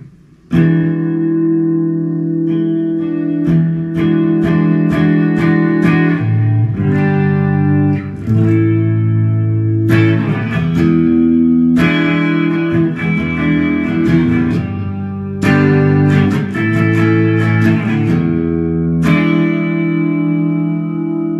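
A Firefly FFTL electric guitar in Classic Honey Burst, on the bridge pickup with volumes and tones full up, plays through a 6L6 amp and Greenback speakers. It rings out clean strummed chords and picked notes in repeated phrases with short pauses, heard alone.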